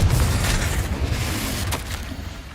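A Confringo spell blast in the video game Hogwarts Legacy, opening with a loud, deep booming burst that rolls into a rumbling decay with a faint crackle.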